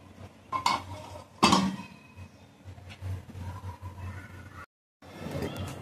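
A metal lid clanks onto a pot of boiling water for jackfruit biryani. Several sharp clinks and rattles of cookware come close and fairly loud, with a brief silent gap in between and kitchen bustle after.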